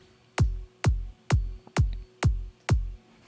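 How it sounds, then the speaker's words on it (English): A kick drum sample pitched down in a sampler thumps six times at an even pace, each hit a sharp attack sliding into a deeper, longer boom, loud with nothing else around it. "your kick goes down in pitch"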